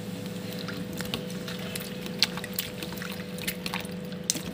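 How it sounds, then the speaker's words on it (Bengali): Fish-washing water is poured out into a strainer, a continuous trickling and splashing with small irregular drips over a low steady hum, no speech. "জলটা জালের মধ্যে ঢেলে দেবো।"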